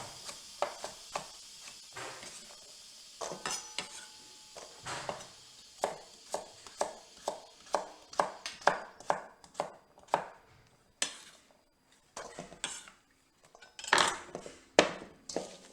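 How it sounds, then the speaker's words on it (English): A knife chops sweet potatoes on a cutting board, giving a long series of crisp, close, steady chops with a few short pauses and no talking. "Finish cutting up these sweet potatoes."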